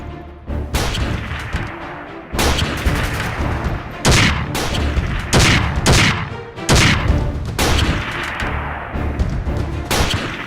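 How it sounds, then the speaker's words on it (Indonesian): Gunfire crackles through a shootout in a dark forest, loud bursts of shots in clustered volleys with short gaps, echoing sharply and filling the scene without talk. "Gua nggak bisa menyimpulkan siapa lawan yang gue tembakin ini."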